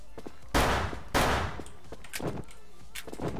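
Bursts of gunfire in a shooter video game, two loud sharp volleys close together followed by softer scattered shots and clatter; no talking.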